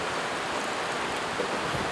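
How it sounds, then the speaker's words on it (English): Water sprinkled over freshly sown microgreen seeds such as sunflower and speckled peas gives a soft, continuous hiss and patter, close and steady for about two seconds. "just give them a little bit of water"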